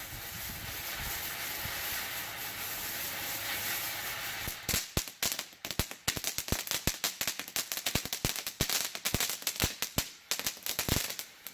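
A TNT Radiant Fountain firework gives a steady hissing spray for several seconds, then breaks into rapid, irregular crackling pops and bangs that continue to the end.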